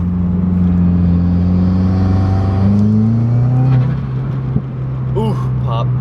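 A Subaru WRX turbo engine holds a loud, steady rev under brake boosting, with its pitch rising and then dropping as the brake is released. A voice speaks over the engine near the end.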